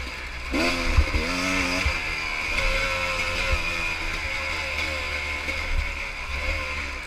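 A pit bike engine revs hard while being ridden, a loud buzzing drone that climbs in pitch through the gears and holds steady, close and continuous.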